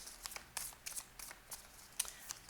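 Tarot cards shuffled and drawn by hand during a reading, a run of soft, quick papery flicks and snaps at a steady irregular rhythm, close and faint with no talking.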